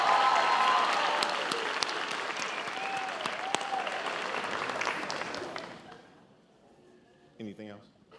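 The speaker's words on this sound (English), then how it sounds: "let's give all of our students that spoke another round of applause." A graduation ceremony audience claps in steady, dense applause that fills the hall for several seconds, then thins and fades out, followed by a brief spoken voice.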